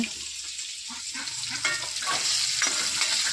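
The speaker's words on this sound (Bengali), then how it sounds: "এখন আমি পনিরটা ভেজে নেব" Paneer sizzles in hot oil in a pan, a close, continuous frying hiss with light stirring scrapes that grows slightly louder toward the end.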